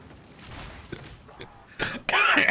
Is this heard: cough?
yes